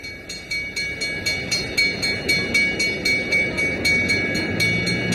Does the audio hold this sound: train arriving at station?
yes